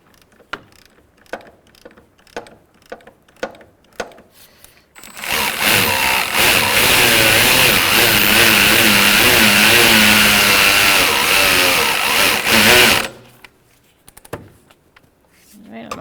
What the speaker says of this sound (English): I'm going to get my 18mm ratchet wrench.